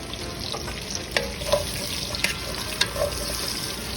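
Chicken pieces browning in a pot for soup, a steady close sizzle and crackle with scattered sharp pops and occasional stirring clinks, no voices.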